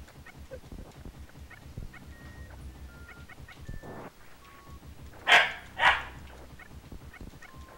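A dog barks twice, loud and close, in quick succession, standing out over a low background of sparse electronic game tones.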